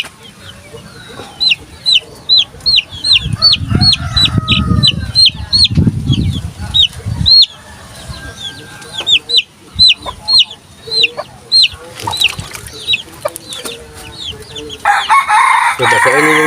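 Gamefowl roosters crow repeatedly in a rapid, close chorus, mixed with clucking and some rustling, while a voice speaks briefly in the background.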